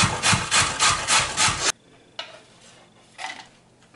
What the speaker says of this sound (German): Die Möhren, die werde ich einfach reiben, weil das ja schneller geht.